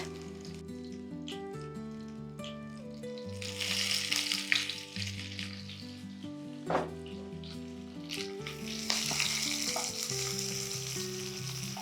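Chopped onion sizzles loudly in a hot pan with black cumin and dried chillies, the hiss swelling as it is stirred, with steady background music underneath.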